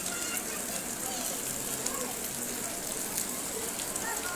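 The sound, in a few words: heavy rain falling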